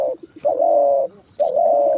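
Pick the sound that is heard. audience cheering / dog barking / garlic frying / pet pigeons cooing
pet pigeons cooing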